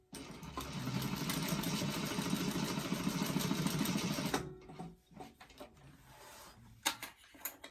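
A sewing machine stitches a short quarter-inch seam joining dart ends on a bag, a close rapid mechanical whir lasting about four seconds, then it stops and a few light clicks and fabric handling noises follow.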